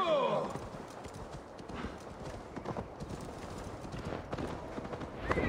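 Rhythmic hoofbeats clip-clop steadily throughout, with a brief whinny near the start and a busy background of game ambience from Assassin's Creed Valhalla.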